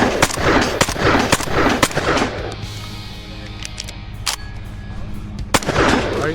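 Shotgun blasts at a steel plate rack, a cluster of sharp, loud shots in quick succession, then a quieter gap with reloading handling before a final shot and more shots resuming at the end.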